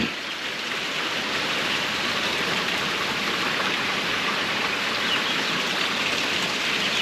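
Steady, dense rain falling outdoors, a continuous even hiss with no breaks, fairly loud and close, with no voices.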